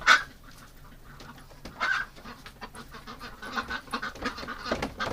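A duck in cold winter weather quacks and honks in short bursts, a few loud calls early and then a rougher series of quacks near the end, fairly close over a quiet background.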